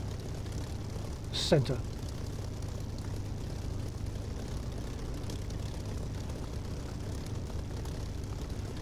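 Propeller aircraft engine idling and running up in the DCS flight simulator game, a steady low drone throughout with a short rising whine near the start; a voice speaks briefly.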